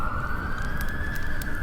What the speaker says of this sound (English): you hear the distant ring of sirens as the smoke billows upward